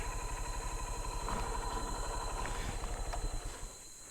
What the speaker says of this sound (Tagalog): Patayin na lang natin yung makina.